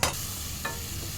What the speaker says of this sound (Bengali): মশলাটা কি সুন্দর ভাজা হচ্ছে ঢাকা দিয়ে।